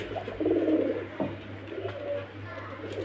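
Low, soft cooing from pigeons, a throaty murmur swelling near the start and recurring faintly, close by with light background hum.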